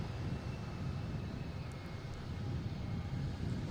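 A Spirit Airlines jet bound for Orlando at Boston Logan airport gives off a steady, broad engine roar, moderately distant and unbroken for a few seconds with no voices.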